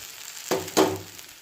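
Onions and ridge gourd hit a hot spiced oil tempering with mustard seeds, cumin, curry leaves, dried chillies and garlic, two quick, loud, close sizzling bursts over a low background hiss.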